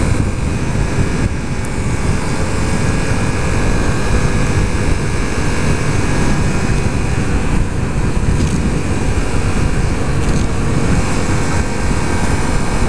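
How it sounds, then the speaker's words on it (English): Steady, loud engine drone from a 2015 Yamaha FZ-07 motorcycle on a test ride, with continuous wind rush over the rider throughout and no pauses or talk. "On this bike, you can ride it pretty smoothly."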